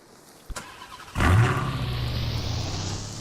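A car in the Roblox video game, heard alone with no talk: a sharp click, then its engine roars up into a loud, steady, close driving drone that holds to the end.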